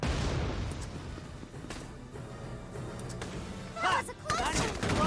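Gunshots and distant artillery booms in the Valkyria Chronicles 4 battle, heard under someone talking; scattered sharp bangs over a rumbling background, with a louder burst of fire near the end.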